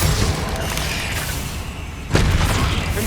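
Confringo blasting spell explosions in the game Hogwarts Legacy, loud continuous booming blasts with a fresh surge of impact near the end, dense and forceful.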